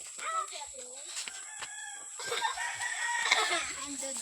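A rooster crows nearby while hens cluck around it, with faint outdoor background noise.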